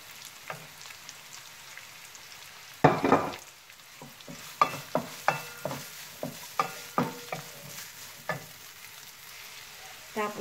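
Garlic frying in a pan for a chicken stir fry gives a low sizzle, broken by a loud clatter and then a quick run of scraping, stirring strokes against the pan, close and without talk.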